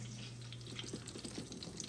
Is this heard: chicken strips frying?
yes